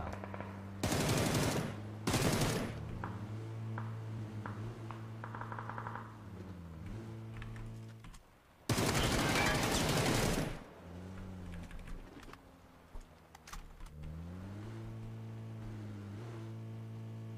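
Bursts of automatic gunfire in PUBG solo play, two short loud volleys near the start and a longer sustained burst midway, set over a droning engine hum of a vehicle that rises and falls in pitch.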